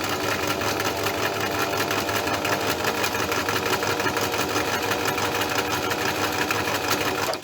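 A sewing machine stitches a one-step buttonhole, running loud and steady with a fast, even mechanical chatter for the whole stretch and no pauses or voices.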